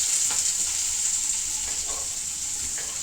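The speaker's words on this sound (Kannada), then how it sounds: "ಆಮೇಲೆ ಆನಿಯನ್ ಹಾಕೋತಾ ಇದೀನಿ." Onion frying in a pan for chicken biryani, a steady close hiss and sizzle with faint stirring scrapes, continuous and alone without talk.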